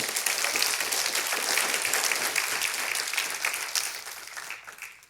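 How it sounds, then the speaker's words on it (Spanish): A church congregation at a Spanish-language Sunday service breaks into loud, sustained applause, dense clapping filling the room before tapering off near the end. "Dele un fuerte aplauso al Señor."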